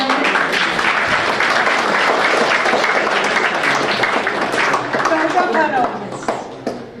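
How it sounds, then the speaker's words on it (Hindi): Students give a loud round of applause at a motivational lecture at St. Soldier Co-Ed College, sustained dense clapping that thins out near the end, with talk underneath. "एक बार फिर जोरदार तालियां"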